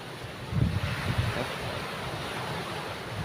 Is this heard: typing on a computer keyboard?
no